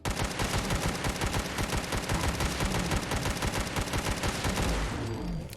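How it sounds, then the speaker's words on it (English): A scrap autocannon, a modded heavy weapon in Fallout 4 that fires 50 caliber rounds, hammers out one loud, unbroken stream of rapid shots for about five seconds before cutting off. No voices are heard. "Here we have that scrap autocannon."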